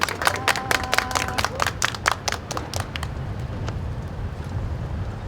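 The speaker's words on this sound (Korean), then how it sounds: "힘찬 박수를 부탁드립니다." A small audience at a Korean forum on Samsung semiconductor leukemia worker deaths claps, with crisp distinct claps up front fading into softer scattered clapping over a steady background hum.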